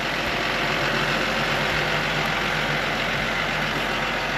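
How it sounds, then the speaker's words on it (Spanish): Self-driving tractor steering itself across a field, its engine holding a loud, steady diesel drone throughout, close and continuous, with no talking. "El tractor ahí va solito."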